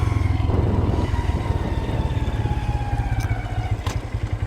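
Honda Grom motorcycle ridden through snowy, icy conditions, its small single engine thumping in a rapid pulsing rhythm close by, steady and loud with slight variations in revs.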